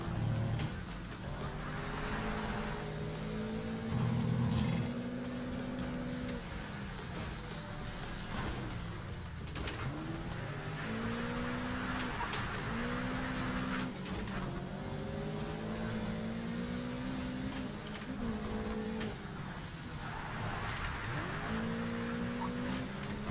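Car engines in a racing video game, a continuous droning rev that rises and falls repeatedly through gear changes, fairly quiet and steady, with a few faint thumps.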